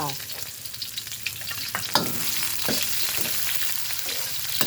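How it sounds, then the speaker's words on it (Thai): Garlic and chili stir-fry in a hot pan for a Thai eggplant dish, a constant bright sizzle with a few sharper scrapes and clacks of the spatula stirring through it, no talking. "ใส่กระเทียมกับพริกลงไปเลยค่ะ"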